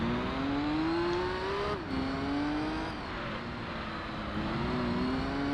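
A race car's engine droning in Gran Turismo 3 during the Mistral Cote d'Azur endurance race, a loud steady high engine tone that climbs through gears with brief dips at shifts, continuous and close.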